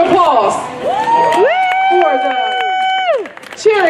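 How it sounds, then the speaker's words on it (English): Audience at a Croft Farm Juneteenth show cheering and whooping for a young jazz standards group, with loud whistles and shouts from a lively outdoor crowd rising over a steady roar, a voice talking over it. "A round of applause."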